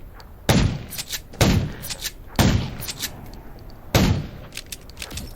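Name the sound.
gunshots in the video game Undawn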